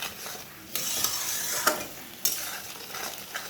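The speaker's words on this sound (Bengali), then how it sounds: "ভালো করে মশলাটাকে একটুখানি কষিয়ে নেব।" Masala being stirred and sautéed in a pan, a quiet sizzle under a few sharp scraping spatula strokes and clinks against the metal, close by and without speech.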